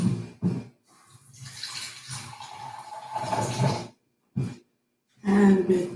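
Water runs from a kitchen tap while biscuit dough is being made, a steady hiss of flow for a couple of seconds, broken by short gaps and brief sounds of someone moving nearby.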